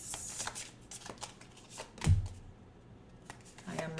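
A deck of manifest success affirmation cards being shuffled, soft papery riffles and taps with one firmer knock, faint and close, under light talk.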